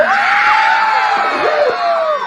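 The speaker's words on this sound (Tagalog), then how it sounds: "Wala rin po bang hiyawan dyan?" A crowd at a festival costume pageant cheers and screams loudly, overlapping high shouts and whoops rising and falling over a couple of seconds.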